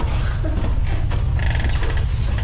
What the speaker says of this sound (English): immediately the door starts like opening and closing